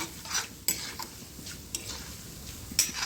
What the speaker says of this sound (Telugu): దాంట్లో తాలింపు గింజలు వేసుకోండి పచ్చిశనగపప్పు ఆవాలు జీలకర్ర ఇట్లా కొంచెం వేగాలి